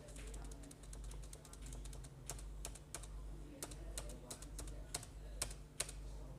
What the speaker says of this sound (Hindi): अभी enter enter enter enter enter करके